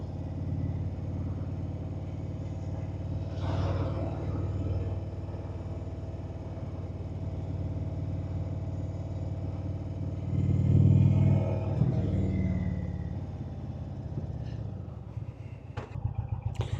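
Road traffic rumbles around a rider on an Indian motorcycle, a steady low engine drone with passing vehicles swelling louder midway and a few clattering bumps near the end, no speech.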